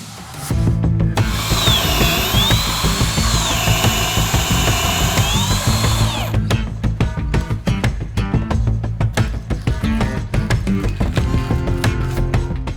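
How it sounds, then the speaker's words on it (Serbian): A power drill bores holes at a 15-degree angle for the bars of a homemade multifunctional training rig, giving a steady loud whine that rises and falls for about six seconds before giving way to repeated sharp knocks. "Za postavljanje šipki bušimo pod uglom od 15 stepeni."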